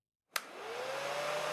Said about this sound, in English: I hear the hairdryer bringing hot air into the studio.